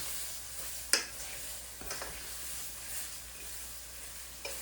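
Onions cooking down in a pan, a soft continuous sizzle with an occasional sharp clink and scrape of a utensil, close but fairly quiet and without talk.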